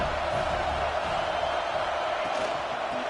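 A football stadium crowd at Miami versus Penn State roars in a loud, continuous wash of cheering and shouting that fills the whole stretch without letting up.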